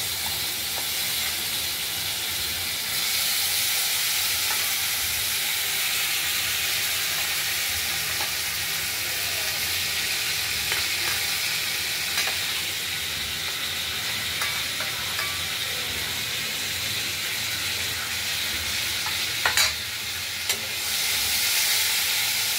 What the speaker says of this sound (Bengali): এবার কেটে রাখা আলুগুলোকে আমরা একটু হালকা করে ভেজে নেব